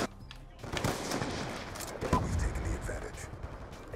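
Gunfire in Black Ops 2 on the Nuketown map, played on Xbox 360: rapid bursts of shots and pops mixed with game noise, running steadily under someone talking over it.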